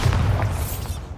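Bombarda blasting spell exploding in the video game Hogwarts Legacy: a single loud, close boom with heavy low rumble that decays over about a second, no voices.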